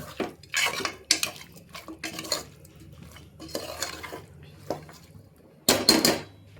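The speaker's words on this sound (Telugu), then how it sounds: "ఈ మసాలా అంతా కూరకు పట్టేలాగా కలుపుకుంటాం ఒకసారి" A spoon scrapes and clanks against a metal pot while masala is stirred into mutton curry, giving a series of close, irregular clinks and scrapes separated by short quiet gaps.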